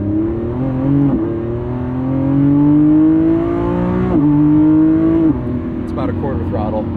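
A 2025 Lamborghini Revuelto with its 1,001 hp V12 drives close by at light throttle. The engine hums steadily, rises through upshifts and revs, and people talk over it inside the car.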